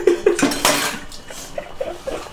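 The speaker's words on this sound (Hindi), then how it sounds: "अब इसको बर्तन मांजने पड़ते हैं।" Dishes, pots and utensils clattering and scraping during washing up, a run of sharp clinks and knocks close by in a home kitchen, busier at first and then settling into scattered taps.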